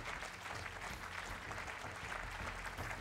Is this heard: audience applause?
yes